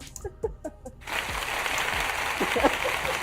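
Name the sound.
applause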